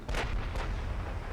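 Naval gunfire in a Korean-setting naval warfare video game: two heavy cannon blasts in quick succession, booming and rumbling with a deep low-end tail, fairly distant and moderately loud, no voices.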